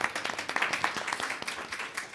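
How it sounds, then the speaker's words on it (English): Brief scattered clapping from an audience applauding the director at a televised panel discussion, irregular claps at moderate distance. "How about a round of applause for our director?"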